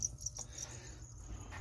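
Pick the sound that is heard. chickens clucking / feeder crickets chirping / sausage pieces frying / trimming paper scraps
feeder crickets chirping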